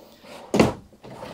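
A storage drawer in a Super C RV slides open or shut once, a single short thud-and-rattle rising out of quiet room tone.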